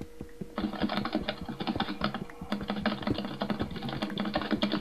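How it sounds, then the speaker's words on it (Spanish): Rapid, steady typing on a computer keyboard runs nearly the whole time, with dense clattering keystrokes heard close up and alone. "Deja de teclear, Alvin."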